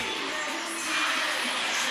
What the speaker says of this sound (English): Crowd getting revved up for the open of this match